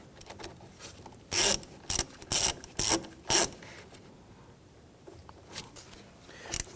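A ratchet snugs down the securing nut on the knock sensor of a 2011-2014 Kia Sorento engine, heard as a close cluster of five sharp clicking bursts in quick succession, then quieter scattered clicks.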